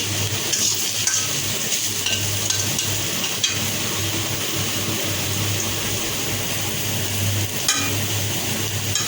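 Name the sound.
potatoes frying and being stirred in a pan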